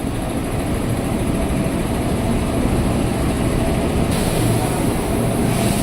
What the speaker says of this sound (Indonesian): ini dia KRL udah masuk ke jalur 5 komuteran tujuan stasiun 3 Raksa